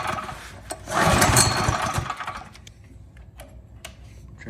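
A Predator 212 small engine with a gummed-up carburetor, left sitting for a couple of years, sputters loudly and roughly while trying to start, then fades to quiet with a few faint clicks and knocks.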